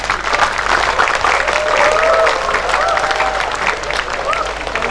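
Audience applause fills a hall at a regional jamboree for equivalency education in East Java, a steady, dense clatter of many hands sustained throughout, fairly loud and close, with faint voices mixed in.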